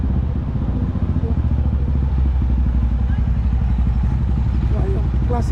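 Classic motorcycle engine idling nearby, a loud steady low chugging throb that runs throughout, with people talking faintly under it.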